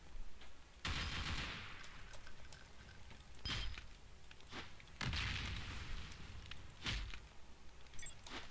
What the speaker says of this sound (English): Of course, there's a chain gunner.